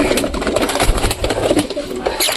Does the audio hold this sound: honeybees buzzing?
no